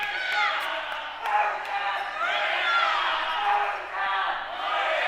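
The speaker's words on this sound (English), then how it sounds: "Fans are even booing in here." A crowd of fans in an indoor gym at a girls' high school fencing match, producing a swelling wave of jeers and shouts with whoops rising and falling, fairly close and loud.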